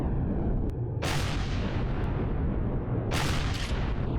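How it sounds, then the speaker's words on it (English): Incoming rockets blasting in Empyrion Galactic Survival during an asteroid-field fight, with two loud broadband explosions about two seconds apart over a steady rumbling game background. "So, yep, there come the rockets."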